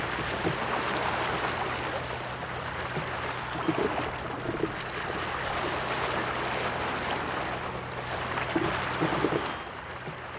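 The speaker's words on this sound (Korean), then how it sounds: "바다 물소리 듣고" Steady wash of sea water on the coast at Tongyeong, South Korea, a continuous rushing hiss with gentle swells and small splashes, close by and unbroken, no voices.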